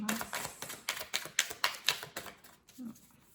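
Tarot cards drawn and handled from a deck produce a rapid run of crisp taps and flicks, close and fairly clear, with a brief voice speaking near the end.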